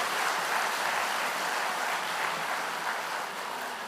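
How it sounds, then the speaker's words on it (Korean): A church summer-camp congregation claps for the Chuncheon church silver choir after a special hymn, a broad, even wash of many hands heard at a distance, steady and sustained with no voices over it. "우리 춘천교회 기쁨의 춘천교회 실버님들께 다시 한번 큰 박수 부탁드립니다"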